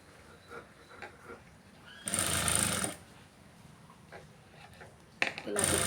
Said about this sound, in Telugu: ఇలా కుట్టుకోవాలండి చాలా ఈజీగా